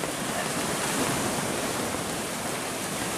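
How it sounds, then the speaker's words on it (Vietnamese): Rough sea waves at Hòn Đá Bạc beach make a steady, loud, broadband roar of surf with no breaks. "Đi dạo bãi biển Hòn Đá Bạc đây nghe, mà biển động quá nghe."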